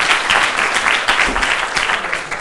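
An audience applauds to welcome a speaker at a design talent showcase presentation, with steady, dense clapping from a nearby crowd lasting throughout.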